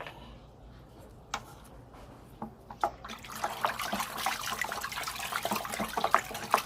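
Water poured and sloshing while being mixed with complete 14-14 and urea fertilizer, starting as faint trickles and growing into steady, close splashing and stirring.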